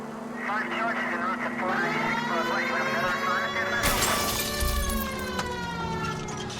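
A police car siren wails in the video game L.A. Noire, a steady rising and falling tone layered with engine and street noise. Partway through, a sharp crash breaks in, and voices talk throughout.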